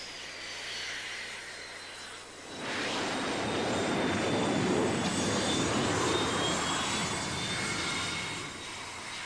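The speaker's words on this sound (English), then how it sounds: "A 20-ton airplane landing at 120 miles an hour is brought to a halt in 200" A jet airplane lands on an aircraft carrier deck in the Persian Gulf in early 1994. After a quieter opening, a loud, close engine roar swells and holds steady until the end.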